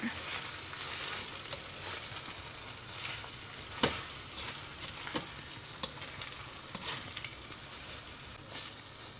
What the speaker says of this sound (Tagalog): So, ayan na ang aking malagkit. Let's mix together.